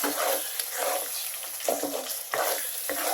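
Dried, cut and washed loitta fish go into a hot frying pan, giving a steady sizzling hiss with bursts of stirring and scraping, close and fairly loud.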